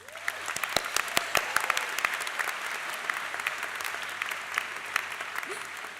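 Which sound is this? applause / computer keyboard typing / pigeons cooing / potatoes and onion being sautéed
applause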